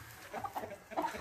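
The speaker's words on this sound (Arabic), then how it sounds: "وعندنا هنايا دجاج الرود ايسلاند" Soft clucking from Rhode Island Red chickens, a few short low calls, quiet and close, with faint background noise.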